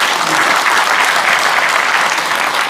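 Steady, loud audience applause filling the room at a book launch event, dense continuous clapping from many hands with no break.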